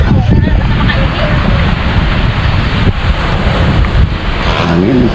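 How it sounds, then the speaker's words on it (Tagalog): Strong wind gusts buffet the microphone at a seaside beach, with surf rumbling steadily underneath; the roar stays loud and continuous throughout, and a voice briefly joins near the end. "Hangin, presko."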